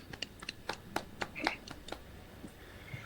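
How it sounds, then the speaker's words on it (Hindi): At a team-building sales meeting, a sparse, faint smattering of individual hand claps sounds out in an irregular rhythm, a dozen or so separate claps rather than a full round of applause. "करके कविंदर साहब के लिए जोरदार तालियां हो जाए"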